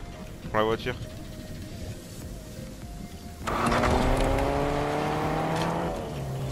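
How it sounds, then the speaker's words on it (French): Car engine in Fortnite revving up and rising in pitch under loud gameplay sounds, following an earlier brief burst and a quieter stretch. "La voiture."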